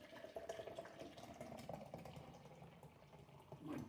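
Guinness 0.0 non-alcoholic stout pours into a glass in a soft, continuous gurgling stream, faint and close, swelling slightly near the end.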